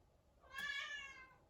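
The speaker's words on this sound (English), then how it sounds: "Yes, I have an ill-tempered cat." An ill-tempered cat gives a single drawn-out meow, fairly quiet and alone, with no voices over it.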